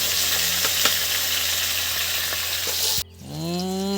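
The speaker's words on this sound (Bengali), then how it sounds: "বন্ধুরা মাছ কিন্তু বেশ সুন্দর করে আস্তে আস্তে করে ভাজা হচ্ছে" Rohu fish fries slowly in oil with a steady, close hiss and sizzle that cuts off abruptly, followed by a brief wavering tonal sound.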